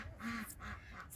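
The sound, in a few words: backyard birds quacking, ducks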